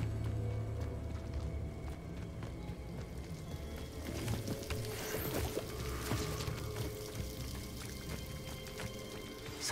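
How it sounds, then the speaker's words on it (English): A waterfall in the Hogwarts Legacy video game, a soft steady rushing of water that stays fairly faint and even throughout, with occasional light clatters over it. "The waterfall."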